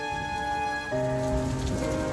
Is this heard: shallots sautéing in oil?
no